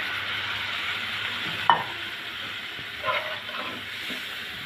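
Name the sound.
spice paste sizzling while being fried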